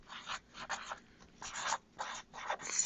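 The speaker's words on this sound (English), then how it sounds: "we're going to write food" Someone writes by hand, making a quiet run of short scratchy strokes in bursts with brief pauses between them.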